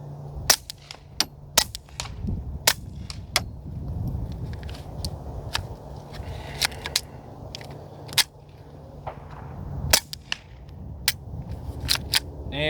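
Suppressed pistol shots through a Dead Air Mask suppressor fired outdoors at a tree about 100 yards away, a string of sharp muted cracks at uneven intervals over quiet background.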